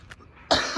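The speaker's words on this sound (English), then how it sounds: "Don't cough on me." A single sharp cough bursts out close and loud at the very end, after a brief faint sound in near silence.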